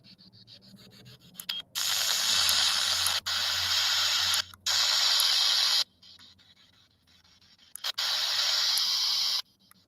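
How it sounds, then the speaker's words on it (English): Bursts of static hiss from an SB7 spirit box radio scanning through stations, loud broadband blocks of a second or two broken by brief gaps and quieter stretches, with no voices heard. "Can you hear the spirit box?"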